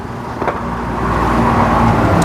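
A small Honda lawn mower engine fires up and settles into a steady, loud idle, close by and with a constant low rumble.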